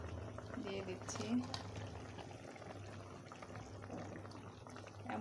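A pot of fish curry broth made with koi fish, potato and brinjal bubbles steadily at a low, continuous simmer, with faint voice-like sounds over it.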